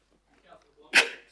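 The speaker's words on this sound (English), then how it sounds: "Excuse me, I'm sneezing." A single sharp sneeze bursts out near the microphone during a local council governing body meeting, preceded by a brief soft intake of breath.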